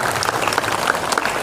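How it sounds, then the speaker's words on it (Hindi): An audience applauds at a school award ceremony honouring students for top board exam marks, a dense, steady burst of loud clapping from a crowd. "आपके लिए जोरदार तालियां।"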